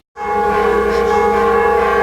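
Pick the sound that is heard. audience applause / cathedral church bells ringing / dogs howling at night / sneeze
cathedral church bells ringing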